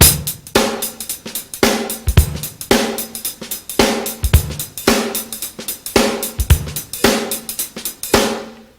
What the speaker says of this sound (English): you could take the jazz beat and apply it to some contemporary nice grooves